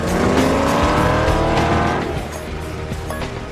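Race cars in a street race from the 2015 film Super Fast, loud engines roaring and tires squealing continuously up close over a dense music-like backdrop, easing slightly in level after the first two seconds.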